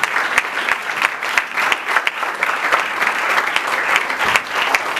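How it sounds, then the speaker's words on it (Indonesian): Church congregation giving lively applause, dense sustained clapping from a large crowd with individual sharp claps standing out, continuous throughout. "kita berikan tepuk tangan yang meriah"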